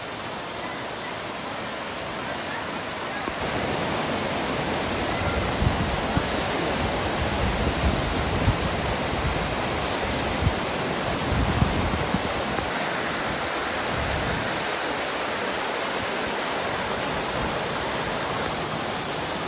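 Rushing water of the Upper Düden Waterfall in Turkey, a loud, dense and unbroken roar of falling water heard up close, with no voices over it.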